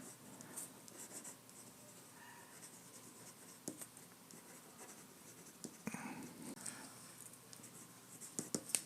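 Pen on paper scratches out quick short strokes and dabs while drawing comic-style bullet holes, faint and close, irregular ticks and scrapes with brief pauses between marks.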